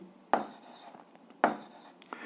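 Pen scratching on paper while working through an algebra exercise, with two firmer strokes and lighter scribbles between, close and quiet with no talk.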